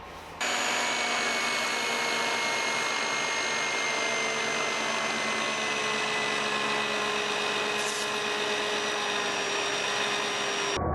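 A Lamello Zeta P2 joiner cutting a P-system slot gives a steady, loud, high motor whine with a constant tonal hum, running unbroken after a short start.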